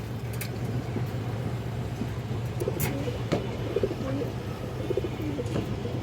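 Bagha pigeons coo softly in a low, steady murmur, with faint chirps and some background noise, no talk.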